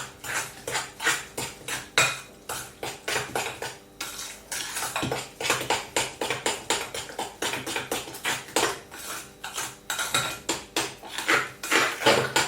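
Cottage cheese dough being mixed in a bowl, a steady run of rapid scraping and clinking strokes of a utensil against the bowl, close and fairly loud, with brief pauses between bursts.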